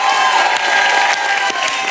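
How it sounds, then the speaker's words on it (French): A television studio audience bursts into loud, dense applause mixed with cheers, filling the brief moment without pause. "Vous pouvez les applaudir quand même."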